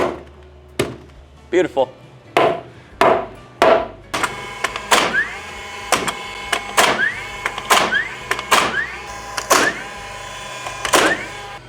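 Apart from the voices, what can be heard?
sledgehammer driving in wooden header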